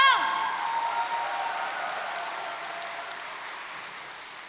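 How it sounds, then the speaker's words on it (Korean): Audience applause at a church worship service after a patriotic oration, a dense wash of clapping that swells at the start and slowly thins out, with no voices over it. "다시 한번 큰 박수 부탁드립니다"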